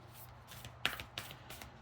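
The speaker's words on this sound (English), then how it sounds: "And I just have to shuffle a little bit here." Tarot and oracle cards are shuffled by hand in a few soft, brief riffling bursts, close and quiet, with light rustling between them.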